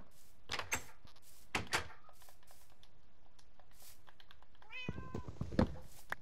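A cat in the Minecraft game gives several short meows spread out over a few seconds, with soft game thumps between them and a higher, wavering meow near the end.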